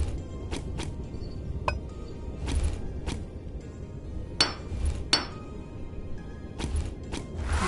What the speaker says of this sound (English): But I think we can go hammer the spike